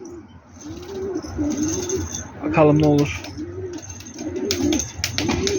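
Pigeons coo repeatedly nearby in a steady rolling rhythm, several overlapping calls filling the clip, while someone speaks briefly over them.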